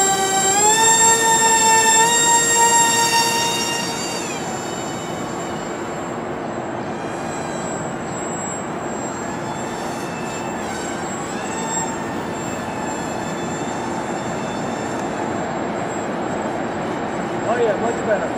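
Twin electric motors whine loudly on a My Twisted Hobbies Crack Wing Twin RC model airplane in flight, the pitch sliding down at first and then holding a steady drone over a constant rush of wind and background noise.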